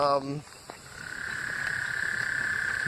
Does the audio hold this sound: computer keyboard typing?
no